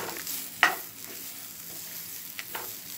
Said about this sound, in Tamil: உப்பு சேர்த்து வதக்கி விடுங்க.